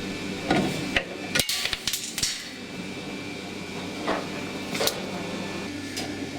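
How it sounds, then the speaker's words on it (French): A pendulum impact hammer is released to break a notched test specimen, giving a few sharp metallic bangs and clicks between quieter machine hum and faint rattles. "Nous allons maintenant lâcher le marteau pour pouvoir casser l'éprouvette."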